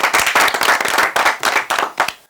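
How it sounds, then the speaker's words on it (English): Secondary school students clapping in unison at a quiz competition, giving a loud, close burst of fast, slightly uneven claps lasting about two seconds. "Clap for that, students."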